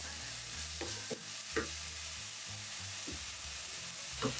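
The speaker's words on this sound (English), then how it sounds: "I'm going to stir fry these until they release their amazing aroma." Diced Japanese leek, garlic and ginger stir frying in oil, a soft steady sizzle with repeated scrapes and stirring strokes of a utensil in the pan, close and fairly quiet.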